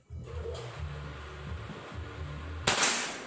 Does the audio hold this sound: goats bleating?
no